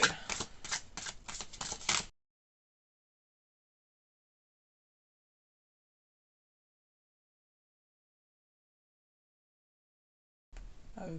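Tarot cards are shuffled in a short burst of crisp, rhythmic riffling at the start, followed by long silence and a brief return of card handling at the end.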